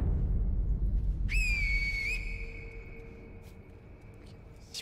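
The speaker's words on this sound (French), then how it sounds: "Petit sifflement." A single sustained whistle tone in the video game Sekiro, steady and clear, rings out over a low rumbling background and holds for a couple of seconds.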